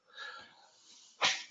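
A single loud, close sneeze bursts out near the end, following a stretch of quieter breathy sound, inside a room where a pastor is speaking.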